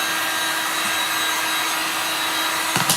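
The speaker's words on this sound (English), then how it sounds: "We'll get the edges all sanded off." Small wooden craft pieces having their edges sanded by hand, a steady, continuous gritty rubbing close by with no talking and a brief scuff near the end.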